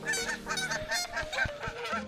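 Geese honking by the water near a carp angler: a run of loud, nasal honks from several birds overlapping in quick succession, close by and continuous throughout.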